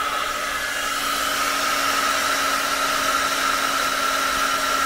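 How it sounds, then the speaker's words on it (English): A hair dryer blowing steadily over a coffee painting on paper, a loud continuous whirring hiss with a constant motor hum, heard alone with no pauses. "Put the dryer. Here's the dryer."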